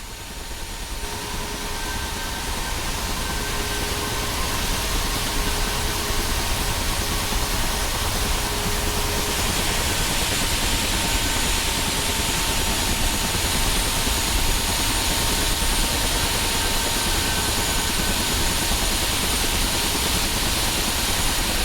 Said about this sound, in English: Let's wait a moment for your right engine to spool up.